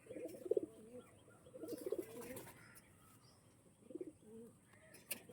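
Pigeons coo softly in a few short, low, throaty phrases, faint and somewhat distant, with light chirps and ambient noise around them.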